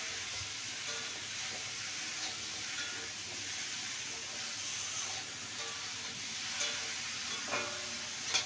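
Salted food being stirred in a frying pan, with a faint, steady sizzle and occasional soft scrapes and knocks of the spoon.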